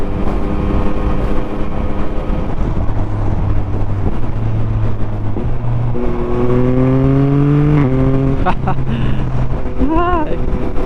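Yamaha MT-09 SP motorcycle with an 890cc CP3 three-cylinder engine being ridden, a loud steady engine drone under heavy wind rush, rising in pitch through several upshifts near the end.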